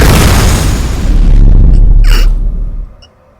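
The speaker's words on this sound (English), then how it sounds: "you turn around, and there is a gigantic explosion." A huge explosion sound effect for a tabletop role-playing game scene on a pier, a loud booming roar that swells and rumbles for nearly three seconds before cutting off, with a brief crackle near the end.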